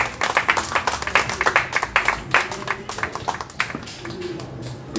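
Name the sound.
applause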